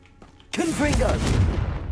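A Confringo blasting spell goes off in Hogwarts Legacy, a sudden loud burst after a faint lead-in, followed by a sustained roaring rumble with some voice-like sounds mixed in.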